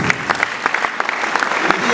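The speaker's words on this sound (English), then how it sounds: "I have a applause for our pastors for the house, please" Brief burst of congregation applause for pastors at a women's church convention, steady crowd clapping with individual claps popping through, under faint background voices.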